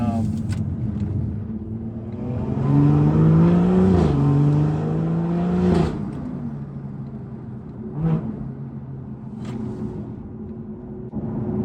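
A tuned 500-horsepower BMW N55 inline-six car engine revs and accelerates from inside the car, rising and falling through a few pulls, with road rumble and some talk.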